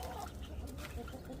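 Disturbed backyard hens cluck steadily in a coop, a dense overlapping chorus of fowl calls that stays close and loud throughout, with no talking.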